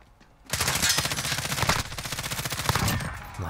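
Rapid automatic gunfire rattles in close, dense bursts for about three seconds in the video game Call of Duty: Modern Warfare, loud and continuous after a quiet start.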